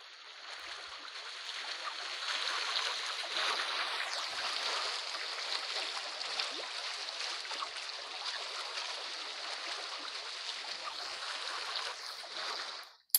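Steady rushing water from a river current and waterfall fills a fishing location in the Fishing Clash video game, a continuous broadband wash holding at an even level throughout with no voices.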